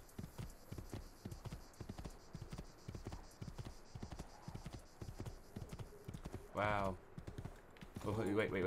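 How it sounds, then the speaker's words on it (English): A horse gallops in Assassin's Creed 2, its hooves clopping in a quick steady rhythm at moderate distance, with a brief whinny and other game sounds rising near the end. "I'm gonna gallop through the green fields"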